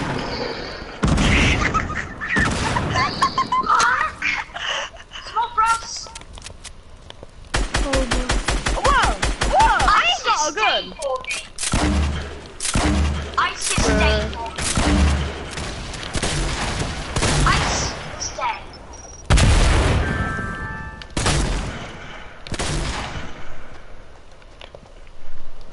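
Gunfire rings out in a multiplayer video game as sharp bursts of shots, including rapid volleys and single loud blasts, spread across the whole stretch with short pauses and some talking between them.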